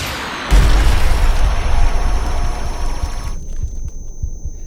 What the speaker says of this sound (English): The explosion seizes the entire room.